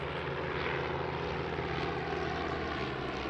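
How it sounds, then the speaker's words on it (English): An SV4 Stampe, a vintage Belgian biplane trainer and touring aircraft, flies at a vintage airshow, its propeller engine droning steadily and loudly throughout with no voices over it. "they fly the SV4 Stampe"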